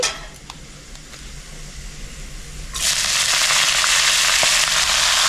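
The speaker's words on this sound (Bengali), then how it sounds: "আমি এবার শাকটা দিয়ে দিচ্ছি।" Chopped red spinach (lal shak) dropped into hot oil already sizzling with browned garlic and spices; a steady fry first, then a sudden loud burst of crackling sizzle that holds strong to the end.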